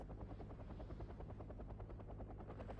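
A German supply helicopter in the video game Wargame Red Dragon gives a steady, loud rotor thump with a low droning hum, its blade beat pulsing evenly and close throughout with no voices.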